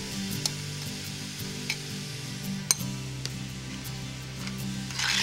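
Tomato, fish, mussels and crab frying in a pan, a continuous close sizzle with a low rumbling hum beneath and a few sharp clinks of a utensil.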